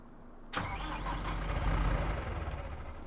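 A farm tractor engine catching and settling into a steady, close, rumbling idle, a sharp onset followed by a sustained low mechanical drone that stays loud for the remaining few seconds.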